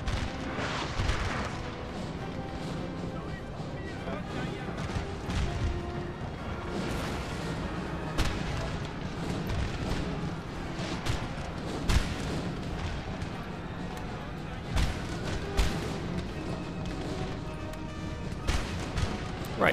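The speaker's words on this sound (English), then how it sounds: "Howitzer, fire on this nice big blob." Howitzer artillery fires in the Napoleon: Total War video game, with dull booms and thuds scattered through a dense, continuous battlefield roar.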